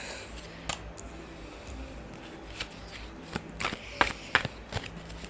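Tarot cards shuffled by hand during a reading, giving a soft, steady riffling with a few sharper snapping bursts toward the end, close and alone with no talk.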